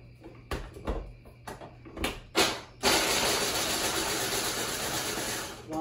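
A food processor grates nuts for zucchini bread, starting with a few sharp clicks and knocks as it is assembled, then running as a loud, continuous, gritty whir.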